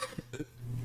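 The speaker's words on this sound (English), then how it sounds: "Why did that voice make me cough?" A couple of short, muffled coughs sound close and fairly quiet, followed by a low hum.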